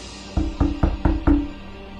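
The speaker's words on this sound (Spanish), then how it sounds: "Él tocaba aún más la puerta." Five sharp, evenly spaced knocks sound on a door as a sound effect in a horror story narration, each with a resonant wooden thud, over faint background hiss.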